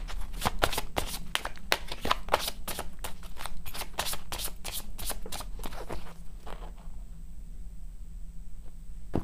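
Tarot cards shuffled by hand in a rapid series of crisp riffling snaps and slaps, close and loud for about six seconds, then stopping into quiet room tone.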